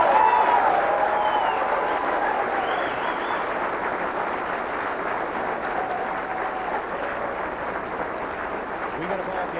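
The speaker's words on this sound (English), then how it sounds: "This crowd's going to cheer." Crowd applause at a women's 9-ball pool match, the WPBA Midwest Classic semifinal between Karen Corr and Elena Thornfeldt, sustained dense clapping that starts loud and slowly tapers, with a commentator talking briefly over it.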